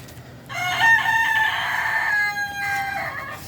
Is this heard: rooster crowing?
yes